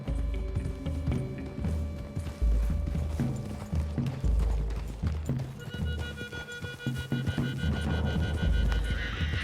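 Horses clip-clop steadily through trees in Red Dead Redemption 2, with a whinny and a snort among the close, loud hoofbeats and some creaking tack.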